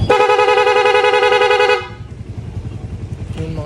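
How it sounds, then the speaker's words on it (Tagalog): A loud, steady PIA loud horn on a Suzuki Raider 150 FI motorcycle blares for nearly two seconds, then cuts off, leaving idling engine rumble and a faint brief tone near the end. "solid na solid yung tunog nung PIA loud horn natin"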